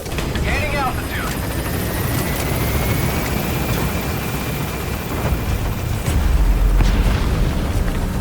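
A helicopter in the game Metal Gear Solid V climbs away from the landing zone, its rotor and engine a loud continuous roar with a deeper rumble building near the end, under radio-style voice chatter.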